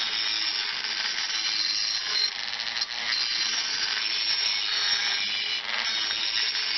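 A Dremel cutting wheel grinds along the edge of a lawn mower blade, a steady bright high-pitched whine with gritty scraping that holds nearly constant throughout, close and loud with no speech.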